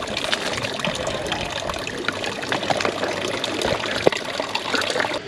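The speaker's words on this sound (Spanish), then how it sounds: "Y bueno, la vamos a llenar de agua aquí." Water running into a refillable bottle at a public drinking fountain in Granada, Spain, a steady gushing trickle throughout with busy outdoor street noise around it.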